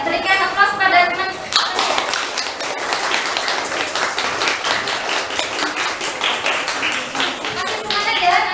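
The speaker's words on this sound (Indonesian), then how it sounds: "berikan aplaus pada teman" Junior high students in an Indonesian science classroom applaud a classmate after a presentation, a dense burst of lively clapping mixed with children's chatter and voices throughout.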